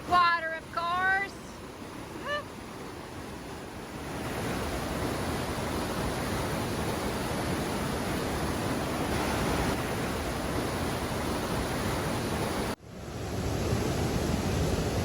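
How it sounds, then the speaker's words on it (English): Broadband rushing roar of white water rapids on a mountain river in the Smoky Mountains, steady and loud after a brief opening, continuing without pause apart from a short cut near the end. "White water, of course."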